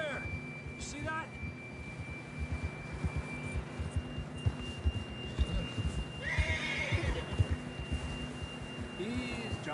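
A horse in Red Dead Redemption 2 clip-clops along at a steady walk, hoofbeats close and rhythmic, with a sharp whinny midway and brief shorter snorts, over a faint sustained tone.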